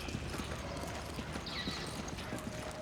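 Hooves clop on a hard floor as a goat moves through a Resident Evil 5 lab. The steps come in a quick, uneven patter against a dense, noisy game background.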